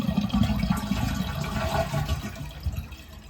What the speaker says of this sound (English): now we are going to flush the toilet